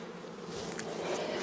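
A close, steady drone of many honeybees buzzing around an opened hive during an inspection of new splits, the hum swelling slightly and rising in pitch with no speech.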